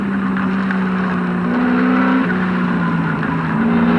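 Race cars at the 1986 Bathurst 1000 roaring loudly, a sustained engine drone with pitch shifting as cars accelerate, including Peter Brock's car in the 05 entry.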